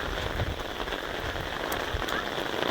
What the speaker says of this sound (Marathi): पाऊसच बंद नाही इथं.